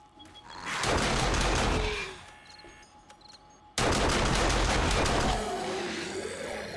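Two sustained bursts of rapid automatic fire from an automated turret in the video game 7 Days to Die, Alpha 19, loud and close, separated by a short lull with mechanical clicks, and no voices.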